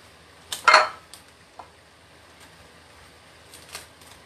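A knife cuts mango for rujak, giving a few short, sharp taps and a brief clatter against a board or plate, close and fairly soft, with quiet pauses between.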